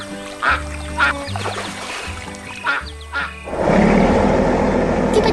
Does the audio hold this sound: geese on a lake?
yes